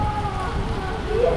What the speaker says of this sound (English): Pouring down rain, thunder and lightning.